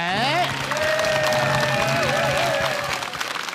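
A TV variety show studio audience applauds to welcome a guest judge, brief crowd clapping with some cheering beneath musical tones and a host's voice.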